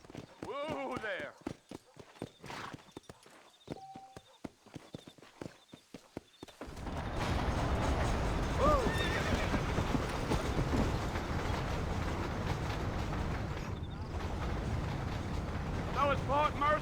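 Horse hooves clip-clop at a trot in the Western video game Red Dead Redemption, a steady rhythmic patter mixed with wagon rumble and ambient noise, with voices talking briefly before the ride starts.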